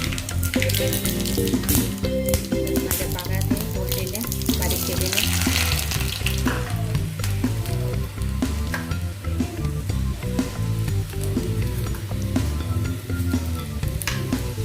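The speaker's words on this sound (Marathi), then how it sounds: "मोहरी टाकूया जिरा" Mustard seeds and cumin frying in hot oil in a pan for bhendiche alan, a traditional okra dish, with loud, steady sizzling and crackling and some scraping from stirring.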